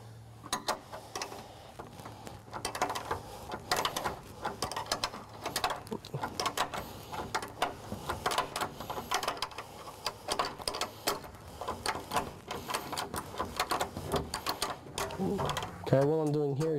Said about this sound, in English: what I'm doing here is just tightening up all the nuts now